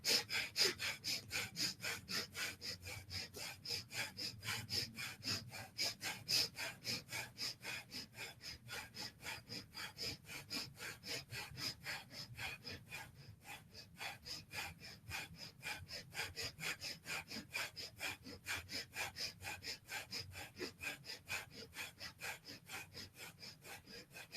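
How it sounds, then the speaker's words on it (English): Rapid, rhythmic breath-of-fire yoga breathing, sharp forceful exhales repeating steadily at a quick pace for over twenty seconds, close to the microphone with no talking. "And I'm going to do breath of fire again."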